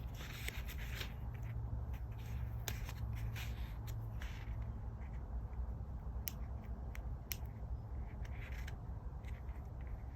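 Double-sided quilter's tape has its backing peeled away during tote bag making, giving quiet close rustles, soft crackles and a few sharp little ticks over a faint steady hum.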